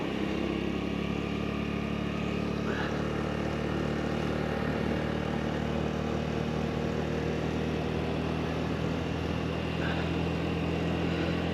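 Honda Navi motorcycle riding along a road, a steady continuous engine drone with heavy wind rumble throughout and no clear changes in speed.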